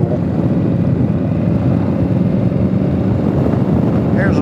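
An Indian Scout Bobber Twenty motorcycle rumbles steadily and loudly on the move, a deep continuous engine and exhaust drone with wind noise, heard from the rider's position.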